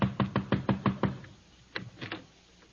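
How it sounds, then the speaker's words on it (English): A radio comedy sound effect of knocking on a door: a quick run of six close, sharp raps, a pause, then three more knocks. "Knock on the door."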